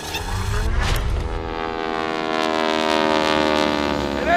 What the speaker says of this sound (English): the planes are taking off for the U.S. Airport celebration at the Van Nuys Airport